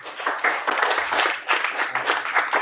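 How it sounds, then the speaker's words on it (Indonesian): Audience members clap for a guest at a creative talk on social and culture, a brisk, uneven burst of applause with distinct hand claps, fairly close and loud. "Beri tepuk tangan buat Mas Eta"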